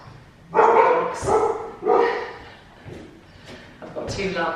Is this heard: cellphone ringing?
no